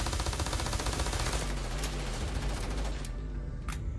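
Rapid automatic gunfire rattles continuously through a Starfield combat encounter, dense, loud bursts filling the whole stretch with a few sharper cracks toward the end.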